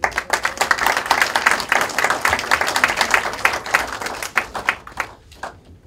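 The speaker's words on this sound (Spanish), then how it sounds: "Recibimos con un fuerte aplauso al doctor." Audience applause welcoming a doctor as speaker at an international seminar on Latin American studies: dense, steady clapping from a crowd that holds for several seconds, then thins out and fades at the end.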